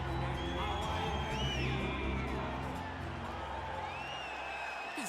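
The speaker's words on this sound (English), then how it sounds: "you hear the pop from the crowd, DC, as Nate Diaz gets set to make this walk" Crowd cheering in the UFC 4 video game arena before a fighter's walkout, a steady roar with whoops and shouts rising over it, under commentators' voices.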